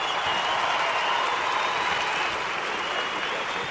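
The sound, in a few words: audience applause for the speakers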